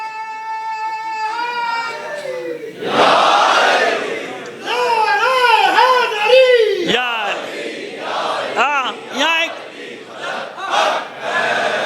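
A crowd at a religious majlis chants slogans in loud, rising unison calls that come in repeated waves, voices swelling and falling together with a few louder shouts rising above the mass.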